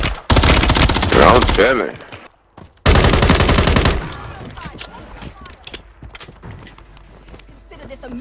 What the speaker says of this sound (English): Somebody shooting from that building.